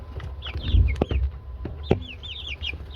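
Young Easter Egger chicks in a fenced pen peep and cluck in quick overlapping bursts, close and fairly lively, with occasional soft thumps and rustling around them.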